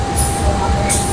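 A KA Bengawan passenger train, a 1989 locomotive hauling it on the Jakarta–Solo run, rumbles along with a continuous low roar, a steady hum and two brief high hissing bursts, loud and close.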